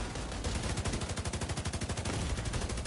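A mounted turret machine gun in the Division 2 video game fires a fast, sustained burst of evenly spaced, loud rounds that rattle on steadily for about three seconds with no talking.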